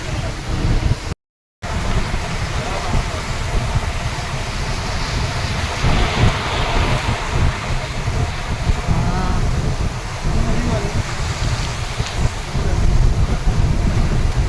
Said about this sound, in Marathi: हे बघा डोंगरातून कसं पाणी वाहते जोरात